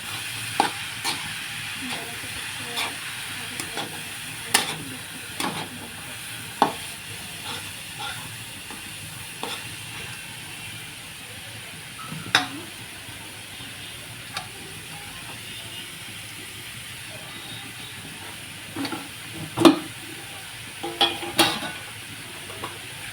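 Ingredients sizzling in oil for a red momo chutney, a quiet, steady hiss broken by scattered sharp spatters and stirring clicks at irregular intervals, with no clear speech.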